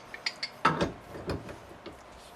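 A pipe wrench tightens a threaded pipe while a yard hydrant is installed, giving a short run of dry metallic clicks and scraping ratchets, close and fairly quiet, with no voices.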